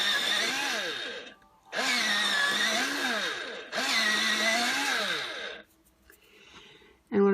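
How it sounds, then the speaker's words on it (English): A colored pencil in cadmium red light is sharpened in a pencil sharpener, giving three long, loud, steady grinding bursts that are close up with short pauses between them. "I'm going to sharpen."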